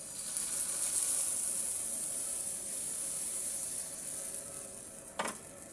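Pitha batter sizzles in a hot pan of warmed milk-soaked coconut for dudh chitoi pitha, a steady close hiss throughout with a brief clatter near the end, no talk.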